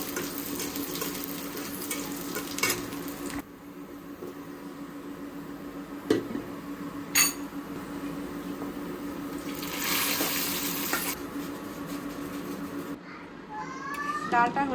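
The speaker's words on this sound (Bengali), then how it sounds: "ডাল হয়ে গিয়েছে সিদ্ধ এখন সুন্দরভাবে বাগার দিয়ে দেবো" Spiced oil tempering added to a pot of boiled lentils, with steady sizzling and bubbling and a few sharp spits and clatters, someone talking over the cooking.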